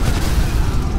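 A loud, sustained blast from a Faster Bomb explosion in GTA 5 fills the space with a dense, roaring rumble and crackle, with no pauses and no talk.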